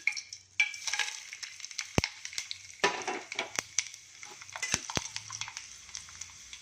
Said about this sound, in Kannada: ಒಂದು ಪಾತ್ರೆಗೆ ಮೂರು ಸ್ಪೂನ್ ಎಣ್ಣೆ ಹಾಕಿದ್ದೀನಿ ಸಾಸಿವೆ ಕಡಲೆಬೇಳೆ ಉದ್ದಿನಬೇಳೆ ಜೀರಿಗೆ ಮೆಂತ್ಯ ಕರ್ಬೇವು ಹಾಕಿದ್ದೀನಿ